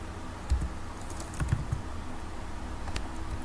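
Close computer keyboard typing while entering HTML code, with short clusters of key clicks and a few thumps from heavier keys over a low room hum, no talking.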